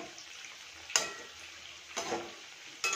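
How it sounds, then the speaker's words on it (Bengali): Semolina pakoras sizzle softly in hot oil, a quiet steady hiss of frying. Three short scraping bursts of stirring cut in at roughly one-second intervals. "ওই দেখো বাকিটা আমি এরকম করে ভেজে নেবো"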